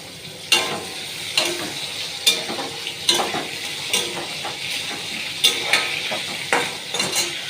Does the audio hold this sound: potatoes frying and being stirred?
yes